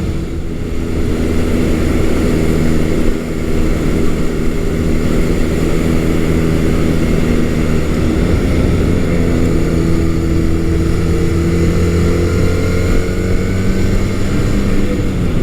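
A small-displacement classic Honda motorcycle engine pulls hard and loud, its rising and falling drone mixed with strong wind rush, continuous and close throughout.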